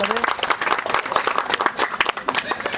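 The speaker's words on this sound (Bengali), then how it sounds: "জোরে হাততালি দেবে সবাই" Loud, busy clapping from a crowd at a Shiva puja gathering, a continuous wash of many hands, with a voice briefly audible beneath it near the start.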